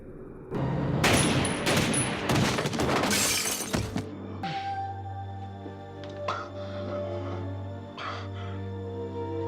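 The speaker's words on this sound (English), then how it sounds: "After Dean shoots the shapeshifter in the chest and he falls dead" Gunfire and shattering glass from a shapeshifter shootout in a TV drama, a loud dense burst of shots and breaking for about three seconds, then a low hum with faint scattered impacts.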